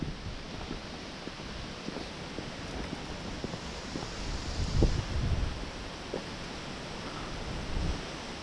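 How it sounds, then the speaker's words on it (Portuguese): A south wind blowing on a rocky coastal point used for fishing, a broad steady rushing roar with gusty swells and low buffeting against the microphone, with no voices. "Ó o vento sul."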